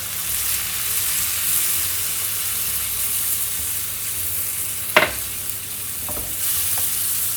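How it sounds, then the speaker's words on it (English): A cream sauce with bacon, salt and pepper cooks on low heat in a pan, a steady soft sizzle with a spoon scraping and one sharper clack of utensil against pan midway, no talking. "Keep stirring it,"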